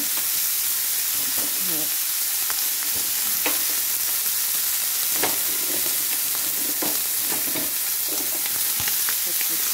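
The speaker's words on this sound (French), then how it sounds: "Et vous faites cuire vos lardons." Bacon lardons sizzle and crackle steadily in a hot frying pan, with occasional stirring clinks and a brief spoken word over the frying.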